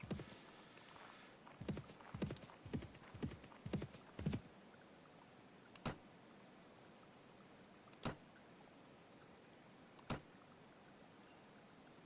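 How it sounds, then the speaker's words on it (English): Horse hooves in the video game Mount and Blade Warband, a quick run of clopping steps followed by a few isolated, widely spaced hoof strikes, faint against a quiet background. "Oh, see, they got horses."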